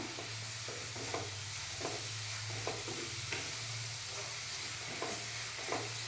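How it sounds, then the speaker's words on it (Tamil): Food sizzles steadily in a hot pan while a utensil stirs and scrapes at regular intervals, close and continuous. "நல்லா வதங்கட்டும்."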